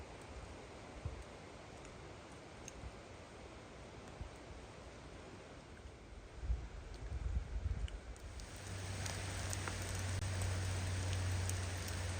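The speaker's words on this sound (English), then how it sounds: "I actually didn't realize that it was raining" Steady rain patters on surfaces throughout a national park forest, a dense wash of drops that swells louder and closer in the final seconds, with no voices.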